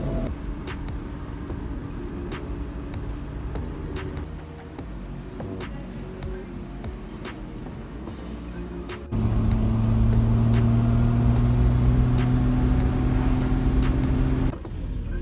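A Triumph GT6 with a dropped valve drives on the road, its engine a steady drone that steps up into a louder, harder-pulling tone partway through, with no talking.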